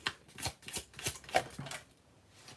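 A deck of tarot cards being shuffled by hand, with a quick run of crisp riffling bursts close by and no talk.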